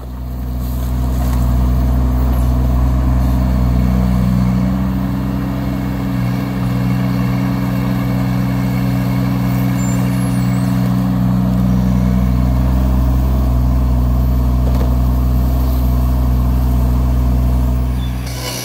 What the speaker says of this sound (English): I was backblading it to level it off and fill in a bit further up the drive.